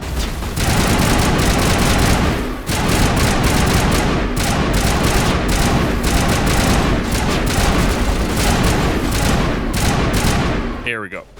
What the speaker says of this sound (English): The gun gets super inaccurate if you shoot for too long.